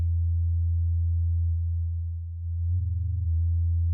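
A Moog Mother-32 synthesizer holds a deep, steady bass tone that dips briefly in level midway, then returns with a slight wavering pulse, loud and alone.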